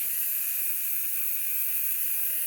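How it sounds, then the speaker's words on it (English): The compressor of an airbrush rig for painting Gunpla model kits runs continuously, giving a steady, even hiss with a faint tonal hum beneath and no variation throughout. "Forgive the compressor. It is pretty quiet, but I don't know how loud it's going to be on camera."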